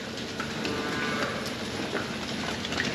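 Dairy cows on a farm moo over a constant noisy outdoor background, their low calls blending into the steady din rather than standing out sharply.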